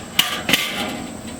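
A metal grill grate is set onto a smoker over hot coals with an applewood chunk, two sharp close clanks in quick succession followed by a faint ringing tail.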